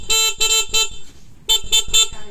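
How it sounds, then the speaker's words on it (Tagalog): A Suzuki X4 motorcycle horn honks in short bursts: three quick beeps, a pause, then three more, loud and close with nothing else around. "Ayos na, nakagana ng busina."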